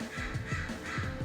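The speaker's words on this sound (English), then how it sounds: "what's with the crow and you, man?" A crow caws repeatedly beside a racetrack, harsh calls coming in an uneven series over steady low background noise.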